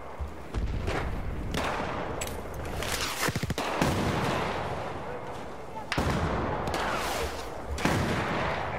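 Battlefield 4 combat with repeated loud gunshots and booming artillery-like blasts, including a rapid burst of automatic fire, over a dense rumbling battle background; a voice talks underneath in places.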